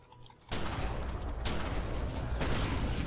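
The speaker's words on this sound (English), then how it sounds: "We'll start shooting at this Umbral Brood Splitter." Gunfire erupts in combat in The Secret World. After a quiet start, dense rapid shots and bursts rattle loud and close, with a sharp crack near the middle.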